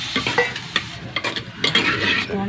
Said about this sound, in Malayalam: ഇനി നമുക്ക് വേഗം നമ്മുടെ അര ലിറ്റർ തൈര് ഒഴിച്ചു